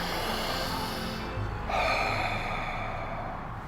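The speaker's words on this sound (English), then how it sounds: "start breathing in very deep" A person lying down for meditation breathes in and out slowly and deeply, a long close, airy inhale and exhale with no talking.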